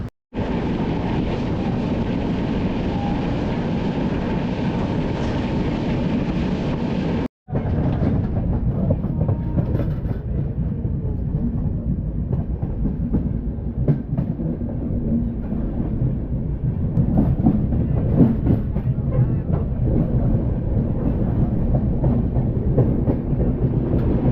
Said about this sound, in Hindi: हमारी ट्रेन यहाँ से भी डिपार्चर ले लिया है